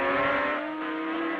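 Works Suzuki racing motorcycles roar at full throttle on a wet road course, a loud, steady, high-pitched engine wail that holds close and continuous throughout, with no talk.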